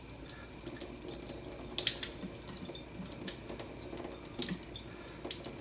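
Tap water runs in a steady, fairly quiet stream with a light splashing hiss and a couple of brief clinks, during the sharpening of a straight razor on a stone.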